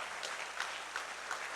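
Church congregation at a Pentecost Sunday service breaking into applause, a soft, dense wash of many hands clapping heard at a distance and fairly faint, with no voices over it.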